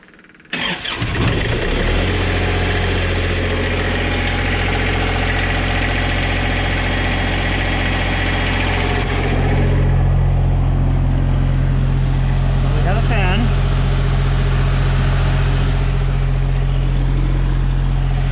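A Powertech diesel generator in a Foretravel motorhome cranks, catches and settles into a loud, steady low idle that continues unbroken and close by for the rest of the stretch.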